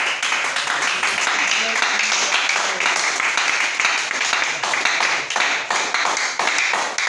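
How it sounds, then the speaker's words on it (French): A church congregation claps steadily and loudly, a dense, continuous patter of many hands with a slightly rhythmic pulse, while a voice speaks over it. "Acclamons encore notre Seigneur."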